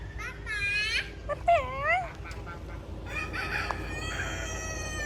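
A rooster crows twice nearby at a Thai vow-fulfilment gathering, the rising and falling calls loud over a busy outdoor background, followed by fainter bird calls and other activity.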